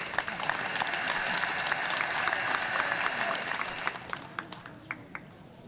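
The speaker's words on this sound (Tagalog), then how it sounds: "Mahina ang palakpak." An audience at an 82nd birthday celebration in a conference center resort hotel gives applause for a family. The clapping is steady at first, then thins into sparse, separate claps near the end. Faint crowd murmur sits beneath it.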